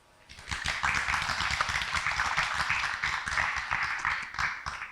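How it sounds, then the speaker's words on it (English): An audience at a panel discussion on war, technology and resilience breaks into a dense round of applause, steady and sustained for several seconds. "Let's give them a round of applause."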